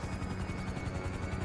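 Rotor thump and turbine whine of a helicopter in GTA 5 during a rappel insertion training exercise, a steady, fairly close continuous drone with rhythmic blade chop and no talking.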